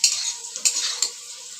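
Potatoes fry in hot oil for a home-style chicken curry, giving a steady bright sizzle with a few sharp scrapes of a stirring spoon, close and alone without voices.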